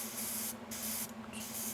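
Spray paint hisses onto a model figure from above in three steady, close bursts separated by brief pauses, with a faint low hum underneath.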